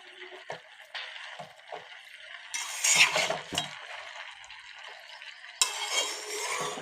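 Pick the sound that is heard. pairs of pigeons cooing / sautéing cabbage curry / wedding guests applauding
sautéing cabbage curry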